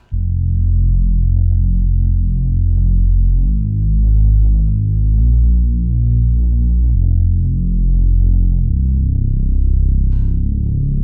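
Deep, heavy techno synth bass made in Ableton Live plays alone in sustained, shifting notes with a washed, reverberant tail, loud and continuous throughout.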